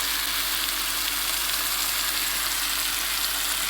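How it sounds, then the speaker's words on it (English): Chicken breast searing in oil in a pan gives off a steady, dense sizzle that stays loud and unbroken throughout, with no voices. "I think I'm just going to put a pat more oil"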